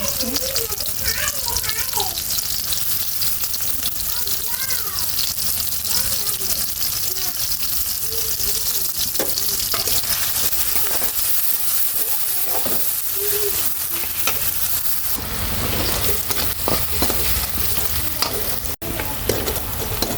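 Onion and green chili frying in hot oil in a wok, a loud continuous sizzle with stirring and scraping, while someone talks over it.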